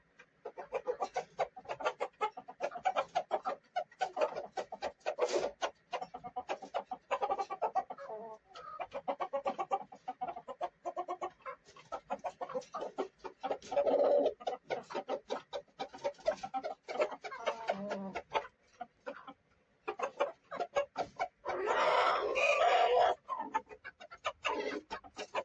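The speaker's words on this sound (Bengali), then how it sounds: "অরিজিনাল দেশি মোরগ, চেহারা দেখুন।" A native desi rooster and hens in a poultry yard cluck in quick, uneven bursts, close and loud with short pauses between runs of calls, and no speech over them.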